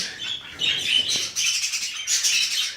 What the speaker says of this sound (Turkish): Oo kanaryalara bak